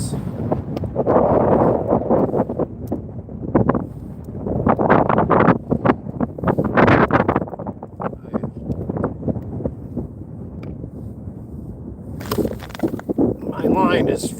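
Wind gusts buffet the microphone outdoors on the ice while ice fishing, a rough rumbling roar that rises and falls, with someone talking over it.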